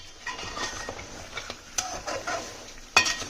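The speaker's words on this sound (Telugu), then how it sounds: "ఒకసారి కలుపుకుందాం" Freshly bought crabs being mixed into curry in oil in a pot: soft scraping stirs over a faint sizzle, with a few sharper knocks and one loud clack near the end.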